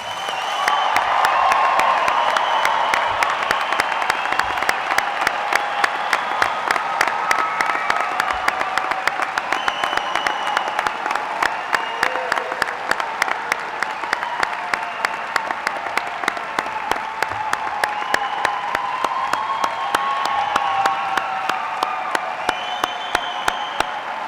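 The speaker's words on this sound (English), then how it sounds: "Let's give the LSC class of 2020 a round of applause" A graduation ceremony audience gives a long, sustained round of applause for the graduating class of 2020, dense and steady clapping from a large crowd with faint cheers, continuing for over twenty seconds.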